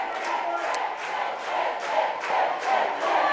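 Crowd at a Tipperary hurling match roars and cheers in extra time, a loud, sustained swell of voices with rising waves of excitement, no single voice standing out.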